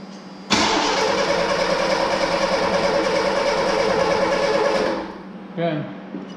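A 1983 Ford Mustang GLX convertible engine cranks and catches, running loud and rough for about four seconds before cutting out, followed by a brief second sputter nearby.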